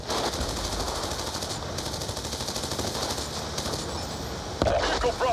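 Rapid automatic gunfire from the video game Call of Duty: Black Ops 2, a dense continuous rattle of shots over battle noise, with a louder burst near the end.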